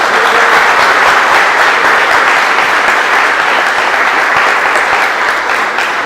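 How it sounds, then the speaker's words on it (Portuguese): A large church congregation applauding loudly and steadily, dense clapping sustained throughout with no pauses. "Vamos dar uma salva de palmas ao Senhor que Ele merece?"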